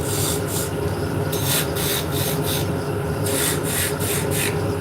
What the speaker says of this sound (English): we're going to use a beading tool